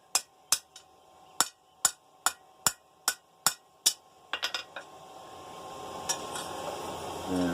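Hammer doming a rivet while forging a camping grill, about a dozen sharp metallic taps in a steady rhythm, close and clear, ending in a quick flurry of lighter strikes before a ringing metal scrape.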